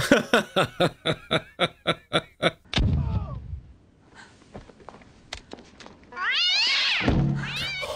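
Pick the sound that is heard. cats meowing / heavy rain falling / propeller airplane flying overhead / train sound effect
cats meowing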